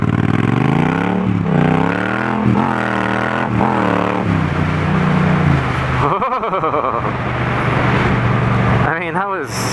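A Yamaha MT-07 motorcycle accelerates hard at about 70% throttle, its engine note rising and dropping through several quick short-shifted gears, loud and close, ending in rushing wind noise.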